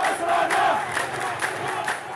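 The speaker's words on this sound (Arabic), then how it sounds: "المتظاهرون رددوا هتافات ضد النظام الإيراني" Protesters in Iran chant slogans against the regime over water cuts and hard living conditions, a dense crowd roar of rhythmic shouting that holds steady and loud throughout.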